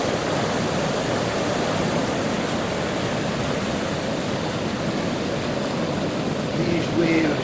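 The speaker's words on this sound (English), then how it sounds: "These waves you'll see here appearing to be quite insignificant and small, will roll onwards up the river all the way up to the White Bridge" Soliton waves rolling up the River Carron at Stonehaven, Scotland, a steady broad rushing wash of water that stays loud and continuous throughout, with no voices.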